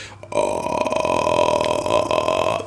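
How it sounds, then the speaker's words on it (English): A lone voice holds a low, creaky, rattling vocal fry for about two seconds, steady and fairly loud. "The vocal fry sounds like this."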